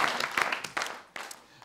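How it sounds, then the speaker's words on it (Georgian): A studio audience on a Georgian talk show claps in loose uneven bursts, a few louder swells of applause separated by brief dips. "როგორ უკრავენ ტაშ."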